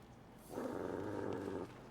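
Low, rumbling growl from a dog in the Disney Dreamlight Valley video game, a steady snarl lasting just over a second at moderate volume, standing out from quiet game ambience.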